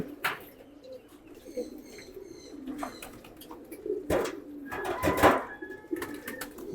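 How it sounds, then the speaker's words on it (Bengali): Pet pigeons perched on a bamboo rail coo softly in repeated low murmurs, with a few faint chirps and one brief flutter of wings among the calls, heard close and moderately quiet. "কবুতরের এই বাকুম শব্দটা শুনতে"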